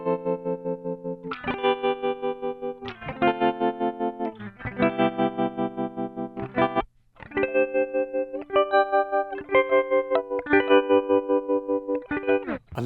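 Gibson ES335 electric guitar through an Ibanez TR Mini analog tremolo pedal with all knobs at noon, chords and picked notes pulsing in a steady, even volume throb across the whole passage; no talking.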